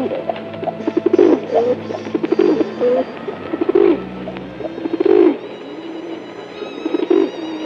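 Pigeons coo in repeated soft, throaty rolling phrases, several calls rising and fading at a moderate distance over a steady low hum, with no voices.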